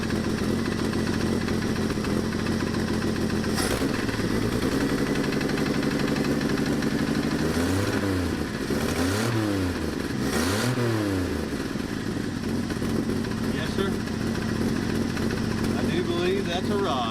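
The engine of a 1984 Dodge Ram D100 idles and is revved with a rod knock, giving a steady loud running drone with a few rising and falling revs. A person talks over it.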